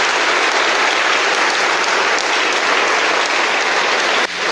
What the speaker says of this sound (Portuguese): Uma salva de palmas a esses irmãos e irmãs.